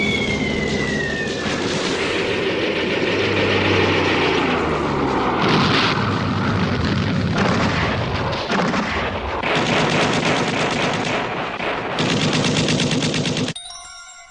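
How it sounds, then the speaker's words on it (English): Heavy WWII battle din as low-flying torpedo planes attack a Japanese carrier fleet while Type 0 fighters defend it: continuous loud gunfire, booming blasts and aircraft noise with no pauses, cutting off abruptly near the end. "The enemy fighters with torpedoes were attacking at a low altitude, but Type 0 fighters were shooting them all down."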